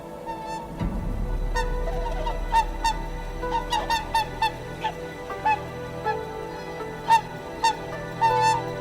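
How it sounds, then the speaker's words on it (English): Whooper swans in Hokkaido in winter call in flight, a string of bugling honks repeated irregularly over a steady wind-like background, moderately near and clear, with no voices. "Hooper swans, Hokkaido's majestic symbols of winter, are back."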